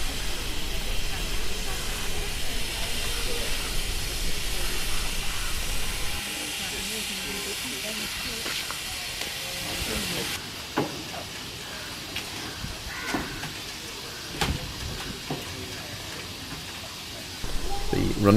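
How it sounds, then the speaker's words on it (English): Darjeeling steam locomotive at Siliguri hissing steam, loud and continuous at first, then easing to a quieter hiss with scattered clanks and knocks of the shed around it. "at least one steam locomotive was steamed every day for the so-called school train"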